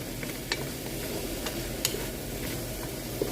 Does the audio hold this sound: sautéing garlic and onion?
yes